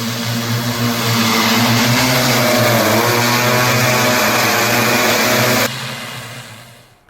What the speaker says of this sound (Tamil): விவசாயிகள் ட்ரோன் மூலம் பயிர்களுக்கு பூச்சிக்கொல்லி மருந்து தெளித்தனர்